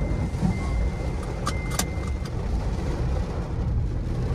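Seat belt being fastened in a 2016-20 Tata Tiago XZ hatchback: a few quick metallic clicks and rattles of the buckle partway through, set against a steady low cabin and engine rumble.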